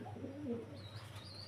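Pigeons at a fancy pigeon farm give soft, low cooing calls, faint and close, with a brief higher chirp near the end over a steady background hum.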